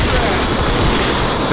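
Dense, continuous gunfire in the video game Crysis 2, a loud, close barrage of overlapping shots with no pause.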